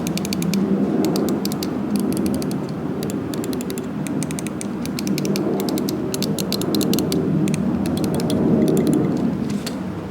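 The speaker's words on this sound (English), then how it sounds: "I like the clicks a lot on this mouse." Rapid mechanical clicking from a WLMouse Beast Miao mouse with Omron optical switches, many quick sharp clicks in bursts over a steady background hum.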